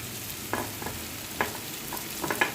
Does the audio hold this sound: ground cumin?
yes